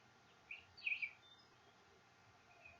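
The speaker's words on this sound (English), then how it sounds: "But I like the birdies chirping." Small birds give a few faint, brief chirps in the distance over a quiet background hiss, with no one talking.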